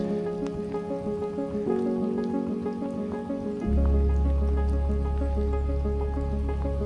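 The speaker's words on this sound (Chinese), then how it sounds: "只听得到雪声、水声，还有一点点雪打到外套的声音。" Snow falls during a winter hike, pattering and ticking against a jacket as a steady, close, fine crackle, joined by a louder low rumble of water in the second half.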